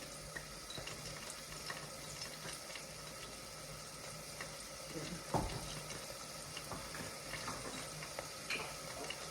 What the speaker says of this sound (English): let's go ahead and add our water into this mixture